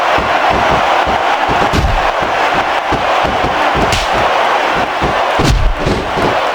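A large crowd in the PS2 wrestling game WWE SmackDown vs. Raw 2006 roars and cheers continuously, loud and dense, with occasional thuds and swells throughout.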